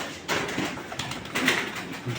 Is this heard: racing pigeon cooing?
yes